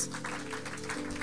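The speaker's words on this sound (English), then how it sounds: "Come on, clap hands for Jesus and give him praise." A church congregation claps hands in praise during a Sunday service, a dense steady patter of many hands filling the whole moment over a sustained musical backing.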